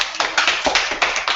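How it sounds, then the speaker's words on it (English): A small group claps together in a continuous, moderately loud burst of applause, with uneven overlapping hand claps and no talk on top. "Give yourself a round of applause"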